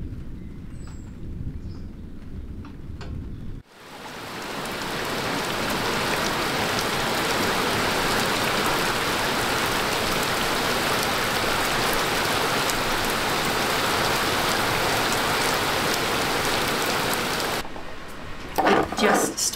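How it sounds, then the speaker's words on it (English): Heavy rain pours down outside in a loud, steady wash of noise that starts abruptly and holds for most of the stretch, with quieter room sound before and after it. "Started like super raining outside, so that is very, very, very nice."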